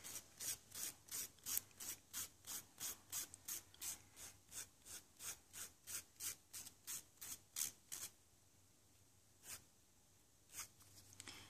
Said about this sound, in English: we're gonna start filing in a downward motion